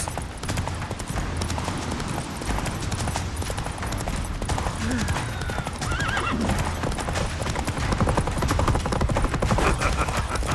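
Roach, a horse in The Witcher 3, gallops in a fast, steady clip-clop with neighing over it, set against dense, loud game sound with gunfire-like bursts and a brief voice.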